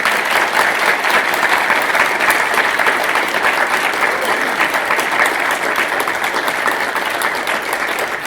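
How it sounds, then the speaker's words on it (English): Sustained audience applause at a keynote event, a dense steady wash of many hands clapping that holds loud and even for the full stretch, only slightly easing toward the end, with no speech over it. "Let's give them a round of applause."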